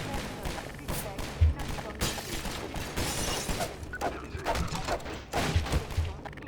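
Gunfire in the first-person shooter Half-Life 2: Episode 1, with bursts of shots and impacts scattered across a busy game soundscape, some louder blasts standing out, and someone talking over it.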